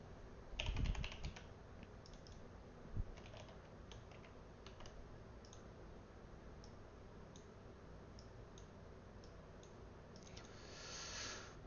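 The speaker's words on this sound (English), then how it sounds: "mouse and its double clicks" Logitech computer mouse clicking at a desk, a cluster of sharp clicks near the start with a few more spaced out, faint and close, with soft keyboard-like ticks and a quiet room behind.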